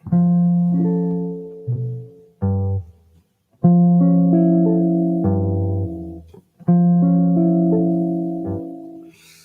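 Sustained guitar chords ring out in four separate strums, each held for a couple of seconds with short gaps between them, close and clear with no talking.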